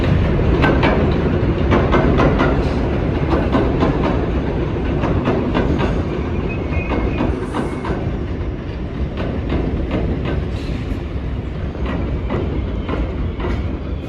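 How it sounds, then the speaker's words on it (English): A New York City 6 subway train runs through Buhre Avenue station in the Bronx, a loud, steady rumble with rhythmic clickety-clack of wheels over rail joints that holds for the whole stretch with no talk. "Sorry for the train noises"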